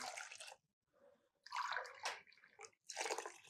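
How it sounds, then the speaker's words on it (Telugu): Water splashes into a pot of dal for kichidi in three quick pouring bursts separated by brief pauses, close and fairly soft. "మీకు దానికి 4 టైమ్స్ వాటర్ పోసుకోండి"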